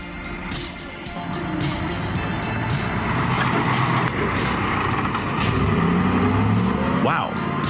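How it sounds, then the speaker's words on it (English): Logging trucks loaded with lumber grinding across muddy terrain, a loud continuous engine drone close by that swells and revs, with a sharp rising rev near the end. "navigate their trucks, loaded with lumber, across challenging muddy terrains"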